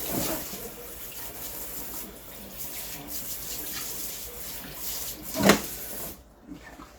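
Hot water runs steadily from a kitchen tap while pork is rinsed for pernil with fresh sofrito, a continuous close splashing stream with a brief louder knock near the end before the flow cuts off.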